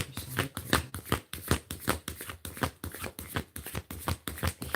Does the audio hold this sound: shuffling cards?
yes